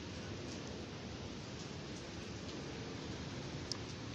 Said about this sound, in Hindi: हल्की बारिश इस वक्त भी हो रही है